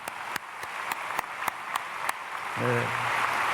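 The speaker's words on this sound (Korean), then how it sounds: "꽃꽂이 하신 분에게 박수하겠습니다" Church congregation applause for the flower arranger during a Sunday service begins as a few sharp, spaced claps, then swells into fuller clapping while a single short voice speaks over it.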